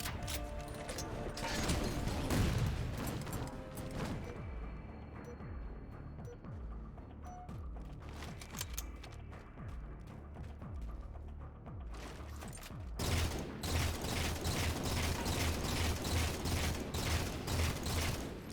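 Gunfire in Halo 4 against a Hunter: dense bursts of rapid shots, then a quieter run of mechanical clanks and ticks, before loud, steady automatic fire resumes near the end.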